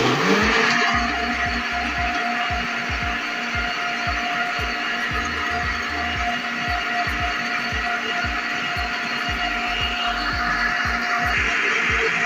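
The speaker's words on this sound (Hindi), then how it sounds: "फिर ढक्कन लगाएंगे, फिर इसको ग्राइंड करेंगे।" A kitchen mixer grinder churns falsa fruit with water into juice, a loud steady motor whine with rapid rhythmic clattering from the jar, running continuously and close.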